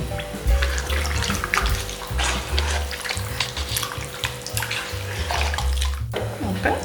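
Water is poured in small amounts into ragi flour mixed with salt while preparing koozh, a steady close splashing and trickling with soft kitchen clatter throughout.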